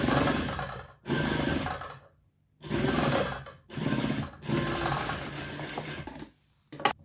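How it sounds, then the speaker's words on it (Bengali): A tailor's sewing machine stitches the side pocket of a pair of trousers in loud, close bursts of rapid mechanical chatter. Several runs of about a second each are separated by short silent pauses, and a brief clunk ends the passage. "এখন আমি এক চাপ রেখে ঠিক এখানে একটা সেলাই দেব।"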